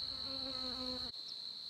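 Wild honey bees buzzing close by, a steady droning hum that stops abruptly partway through, with faint buzzing continuing afterward.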